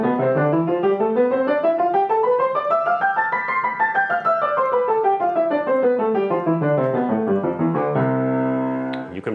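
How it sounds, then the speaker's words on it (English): Short, detached piano notes climb a scale and descend again in a quick, even staccato run, finishing with a sustained chord. "another thing that you can try is practicing those same scales staccato"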